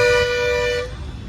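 A car horn blares loudly and close in Ahmedabad city traffic at night, one sustained toot that cuts off, leaving engine and road rumble underneath.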